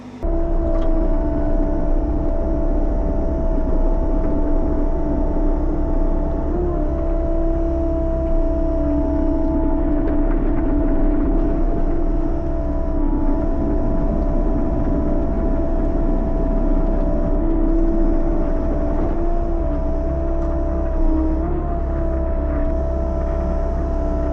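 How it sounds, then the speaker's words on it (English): A skid steer warms up at a steady idle, its loud continuous diesel rumble close by with a constant engine hum and no talk. "so I got the skid steer warming up"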